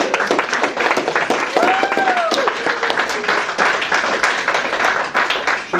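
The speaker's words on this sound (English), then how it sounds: "I'm sure the applause went for that as well" Audience applause at an eightieth birthday celebration, sustained dense clapping throughout at close range, with a voice briefly heard over it.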